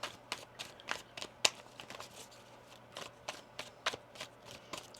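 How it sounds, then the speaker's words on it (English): Tarot cards are shuffled up close, a quiet series of quick papery riffles and flicks in an irregular rhythm, with no talking. "One more shuffle here."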